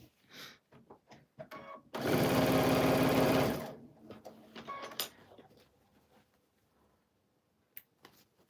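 A sewing machine runs in one steady, loud burst of about two seconds, stitching jelly roll fabric strips, framed by quiet rustling and handling of the fabric before and after.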